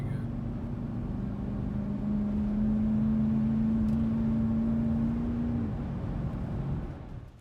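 A Ford car driving after a VCT solenoid replacement, a steady engine drone heard from inside that rises slightly in pitch and then drops away near the end, fairly loud and close.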